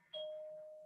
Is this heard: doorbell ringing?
yes